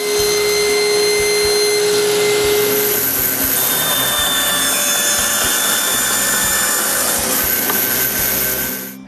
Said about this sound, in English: After marking it, I cut this notch also.